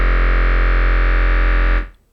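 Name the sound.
old 80s keyboard synth droning sound with long decay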